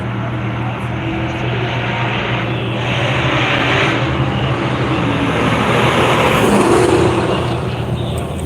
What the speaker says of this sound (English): I think all we're waiting on is the Camaro to come back around